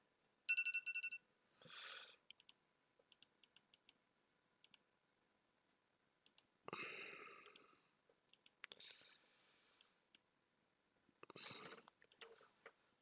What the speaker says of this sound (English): Alright, new hours here. That's my alarm.